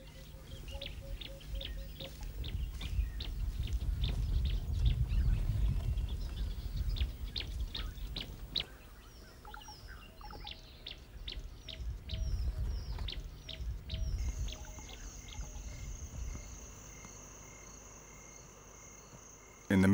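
Birds call and chirp across open grassland beside Lake Manyara in Tanzania, with repeated short calls from several directions over a steady insect-like trill, moderately loud and without voices.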